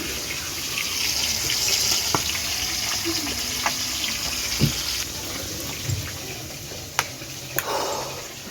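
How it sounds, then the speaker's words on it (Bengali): Steady rain falling during a very hot spell, a continuous even hiss with a few scattered louder drips and splashes nearby, heard alone. "প্রচুর মানে বৃষ্টি হচ্ছে এখন"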